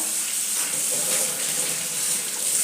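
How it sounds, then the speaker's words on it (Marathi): A new cast iron tawa griddle is rinsed with water, giving a steady, continuous splashing rush of running water that stays close and even for a couple of seconds with no voices. "आता आपण याला पाण्याने धुवून घेऊया"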